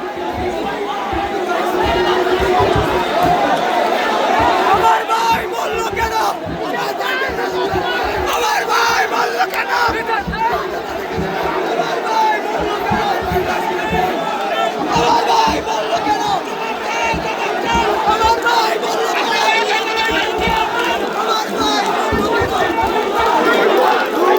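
A large crowd of students chants 'bhuyo bhuyo' slogans in unison, a loud, sustained roar of voices with a rhythmic shouted cadence and chatter throughout.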